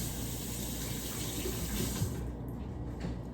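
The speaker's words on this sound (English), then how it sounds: "I had to rinse my hands real quick because some of the egg got on me" Hands rinsed under a running kitchen tap, a steady close rush of water that thins out in the final second.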